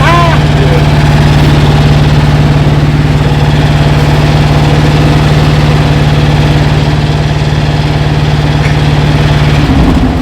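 A squarebody truck engine idles high, a loud, steady, unbroken drone with a constant hum and no change in pitch that cuts off just before the end.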